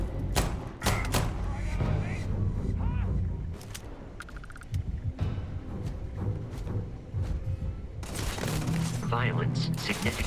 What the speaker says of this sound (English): Can you stop shooting them?